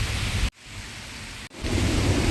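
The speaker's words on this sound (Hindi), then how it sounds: "और देखो बारिश होने लग गई है बहुत अच्छी सी।" Steady heavy rain pours outside a residential colony gate with a deep rumble of thunder, a dense, loud wash of noise broken by two brief cuts.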